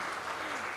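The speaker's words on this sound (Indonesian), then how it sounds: "ayo tepuk tangan." A seminar audience applauds with dense, continuous clapping through a short burst.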